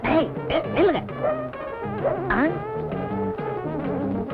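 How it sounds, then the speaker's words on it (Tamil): A large dog barks several times in a film scene, the sharp yelps mixed in among voices and other busy sounds. "ஏதோ பெரிய நாய் போல் இருக்கு."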